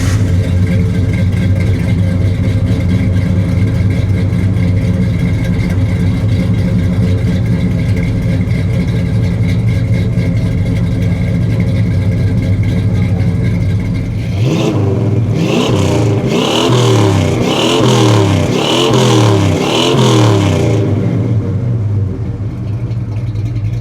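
A Dodge Charger's 7.2-litre Magnum V8 idles with a deep, loud rumble, then is blipped through a series of sharp revs near the end, each surge rising and falling close by.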